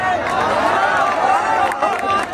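A university event audience at Dr Hari Singh Gour University's Gour Jayanti celebration breaks into a dense, steady wave of clapping and cheering. The crowd noise holds close and loud throughout, with voices calling out over it.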